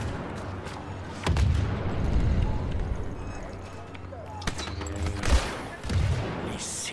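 Turret gunfire in the Star Wars Battlefront 2 video game, heavy bursts and booming shots in uneven volleys over a low rumbling battle bed, with a voice talking at points.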